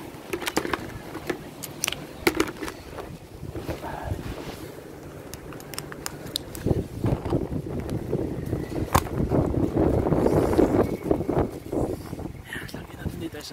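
Gusty wind buffeting the microphone on a cool day, rising and falling in bursts and strongest near the end, with people talking over it.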